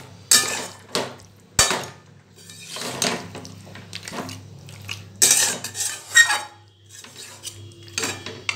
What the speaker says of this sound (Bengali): আবার আমি প্রায় 10 মিনিট মতো আবার কষাতে দেব